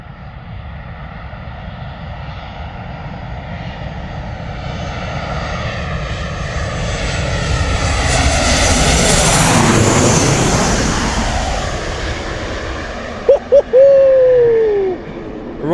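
A Ryanair airliner passing low overhead on approach to Bristol Airport, its engine roar swelling as it nears, peaking directly above and then fading, followed by a few sharp whistling swirls of wake turbulence.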